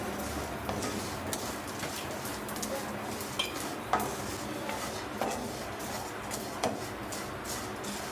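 Vermicelli being lightly roasted in a pan for semiya payasam, with a soft, low sizzle and occasional faint scrapes and taps of a spoon stirring, quiet and close.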